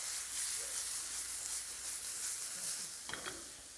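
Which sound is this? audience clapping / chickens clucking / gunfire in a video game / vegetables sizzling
vegetables sizzling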